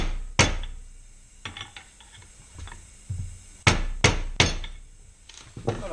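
A big hammer strikes metal engine parts of a Stage 6 Pro 70 scooter engine for a Piaggio, sharp heavy blows coming singly and then in a quick series, loud and close with no talk.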